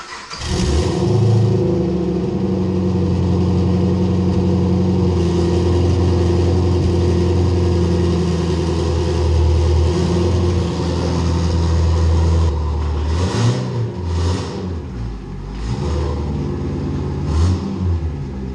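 A 2013 Camaro engine idles steadily, then revs as the car pulls off ramps, a loud, close, continuous mechanical drone with a few sharper bursts of throttle near the end.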